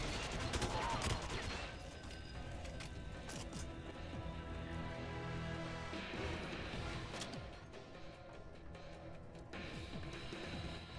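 Gunfire in GoldenEye 007 on the Wii, continuous rapid shots and crashing impacts in a busy game mix, fairly quiet overall but steady throughout with bursts of fire clustered near the start and end.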